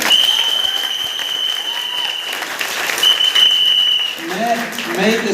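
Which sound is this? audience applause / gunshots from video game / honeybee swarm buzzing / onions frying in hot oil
audience applause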